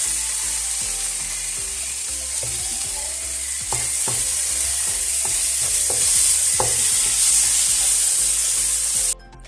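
Spices and tomato fry in a pan with a continuous loud sizzle while a spoon scrapes and knocks against the pan at irregular intervals.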